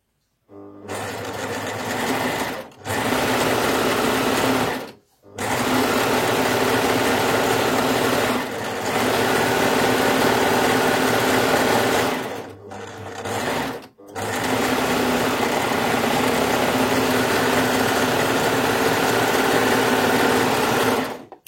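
A Baby Lock Ovation overlock sewing machine runs steadily while stitching denim, a loud, close, continuous whirring motor broken by a few brief pauses between long bursts.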